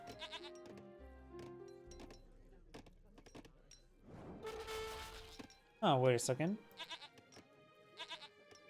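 A short, wavering goat bleat sound effect in Age of Empires 3 rings out loudly after a stretch of game music and clinking effects, with a brief spoken remark nearby.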